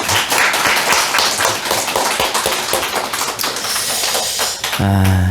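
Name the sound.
church congregation clapping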